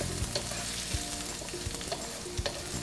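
Chopped bird's eye chili peppers sizzle and fry in a hot pan for nasi goreng, with steady crackling oil and several sharp scraping stirs of a spatula, close and alone.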